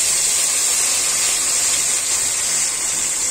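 A blended paste of ginger, garlic, onion, black pepper, cloves, green and black cardamom, cinnamon and cumin, containing a little water, hisses and sizzles steadily in hot oil for a chicken curry, a loud even sizzle with no talking.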